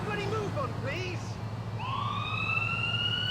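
Emergency sirens in a police patrol video game: a police siren wails in rising tones, then an ambulance siren sweeps in steadily over a constant engine hum, with a voice speaking early on.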